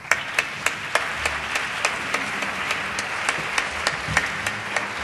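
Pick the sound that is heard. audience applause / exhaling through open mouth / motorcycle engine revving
audience applause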